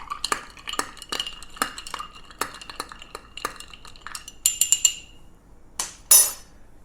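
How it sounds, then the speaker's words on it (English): A spoon stirs rum in a glass for a Cuba Libre cocktail, making a quick run of bright metallic clinks against the glass, close and distinct over a quiet background, with a louder ringing chink near the end. "Give it a little stir."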